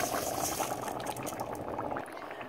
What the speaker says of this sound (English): Now I'm gonna add my rice.